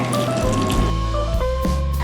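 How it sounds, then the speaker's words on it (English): Two cups of water pouring into a pressure cooker in a home kitchen, a loud steady gushing fill whose tone climbs in steps as the pot fills. "And finally finish it off with 2 cups of water."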